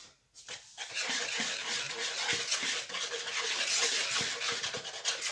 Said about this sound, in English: I'm just whisking that in to begin with